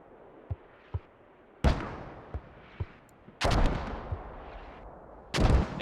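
Mortar rounds fire in a military shooter match between BLUFOR and TLR: a few faint distant thumps, then three loud close blasts with a rumbling tail, spaced a couple of seconds apart.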